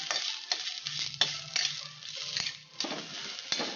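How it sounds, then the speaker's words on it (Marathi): Pigeon pea seeds being roasted in a pan with a little oil, heard as steady stirring and scraping over a light sizzle, with repeated close utensil knocks. "तरी ते अशा पद्धतीने आपले तुरीचे दाणे भाजून झालेले आहेत अगदी थोडेसे चटचटले"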